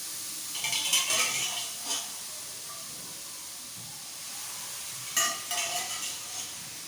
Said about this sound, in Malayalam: ഇനി നമുക്ക് ഇതിലേക്ക് ഈ മട്ടൻ ഇട്ട് കൊടുക്കാം.